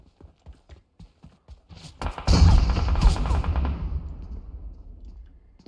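Video game gunfire comes as a sudden loud burst of rapid shots with rumbling echo that fades out, after a run of soft rhythmic footsteps.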